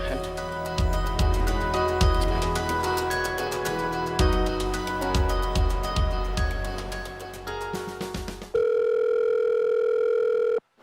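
A phone call rings out unanswered: a steady repeating ring tone over background music, then a flat continuous tone near the end, with no one picking up.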